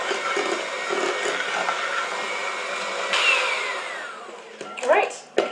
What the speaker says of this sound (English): we'll mix a little longer on this one, just so we can make sure we wind up with a nice pale yellow